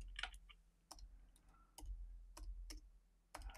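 Keyboard typing while mixing a DIY Virginia tobacco-flavored e-liquid, heard as scattered sharp key clicks in short bursts over a low background hum, with no talking.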